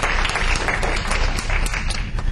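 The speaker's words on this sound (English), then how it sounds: "I like a round of applause just to say we recognize them for that." A room of people applauds a team at a work meeting, dense continuous clapping that stays loud and even throughout.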